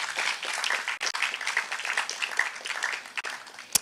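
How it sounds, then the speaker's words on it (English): An audience at a youth agriculture symposium claps steadily in a busy, continuous round of applause, close and moderately loud, ending with a sharp knock. "another round of applause"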